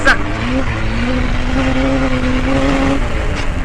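A loud onboard engine roar rises and holds in pitch inside a cross race buggy during a race as a Mad Bugs prototype buggy passes, with someone talking over it.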